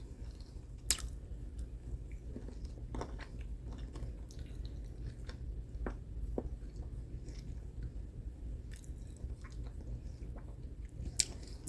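Someone chews Canadian-style pizza made with Rhodes frozen dough, with soft, wet mouth sounds and occasional sharper bites, close to the mic and steady over quiet room noise. No one talks.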